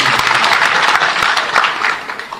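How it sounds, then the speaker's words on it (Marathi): A crowd at a political rally in Nagpur claps steadily in dense, loud applause that fades slightly toward the end. "एकदा टाळ्या आपण त्यांच्यासाठी मागतो"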